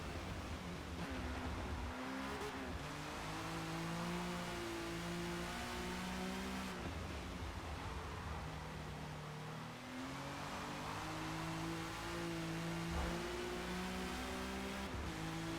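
A race car engine in the video game Forza Motorsport on a wet Watkins Glen circuit, sustained loud revving that climbs and drops with gear shifts, with a steady road and spray hiss underneath and no talk.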